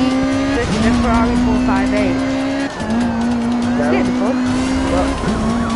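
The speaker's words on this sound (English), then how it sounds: "This is a Ferrari" Ferrari 458 racing in Need for Speed Rivals: a loud, close engine drone holding steady pitch, dropping and climbing again at gear shifts, with tire squeal and voices talking over it.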